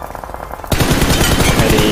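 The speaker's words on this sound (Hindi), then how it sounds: "ग्लिच हो गया लगता है कंटिन्यू फायर हो रहा है" Rapid continuous gunfire in a video game, kicking in abruptly after a quieter moment and then pounding on loud and steady as if the trigger were stuck from a glitch.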